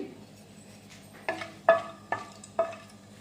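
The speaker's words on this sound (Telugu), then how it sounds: "ఆయిల్ హీట్ అయ్యాక ఇగోండి హోల్ గరం మసాలా చెక్క లవంగా ఇలాచి అలాగే స్టార్ ఫ్లవర్ మొత్తం హోల్ గరం మసాలా వేసుకుని కొంచెం ఫ్రై చేసుకోవాలి" Whole garam masala of cinnamon, cloves, cardamom and star anise in hot oil for prawn pulao, a soft, low sizzle marked by four sharp metallic scrapes of a spoon against the pan, close and fairly quiet.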